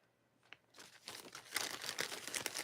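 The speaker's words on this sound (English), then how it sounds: "this one is the 15 by 10 millimeter size plastic bags" Plastic bags of the 15 by 10 millimeter size crinkle and rustle as they are handled, starting with a single crisp crackle and then building into a continuous close, fairly loud crumpling that runs to the end.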